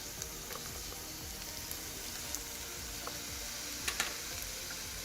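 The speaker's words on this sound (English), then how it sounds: "We're going to stir fry for about 5 minutes." Mushrooms and olives stir frying in a pan for an omelette, a steady soft sizzle with faint scattered ticks and pops, no voices.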